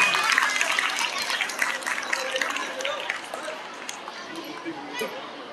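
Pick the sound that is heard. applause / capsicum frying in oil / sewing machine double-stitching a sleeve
applause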